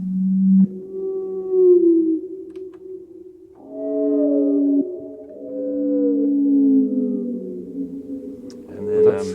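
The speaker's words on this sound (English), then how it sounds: "and then this blue whale here" A recorded blue whale call: long, low, moaning tonal sweeps that rise and fall slowly in drawn-out phrases, loud and close with no other sound, ending in a brief burst of noise.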